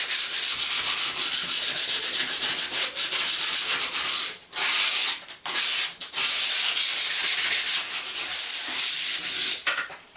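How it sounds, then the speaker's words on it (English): Hand sanding of a wooden garden archway with 120-grit sandpaper, light rhythmic rasping strokes up close, continuous with a few brief pauses between passes. "just a nice light sanding will do"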